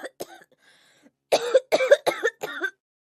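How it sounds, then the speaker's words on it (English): A girl coughs in several harsh, close bursts, a couple of quick ones first, then four louder coughs in a row after a short pause. "the flustered girl started to cough."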